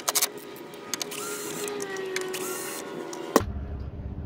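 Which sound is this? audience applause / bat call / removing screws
removing screws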